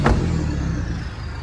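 A Toyota Vigo engine with a remapped throttle gives a sharp rev, a quick rising burst that settles into a steady mid-pitched idle rumble, loud and close, no talking.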